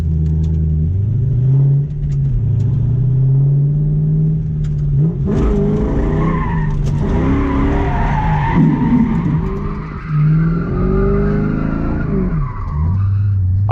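A Ford Mustang drifts with long, loud tire skids and a rumbling, revving engine, the squeal rising and falling over several seconds with no talk.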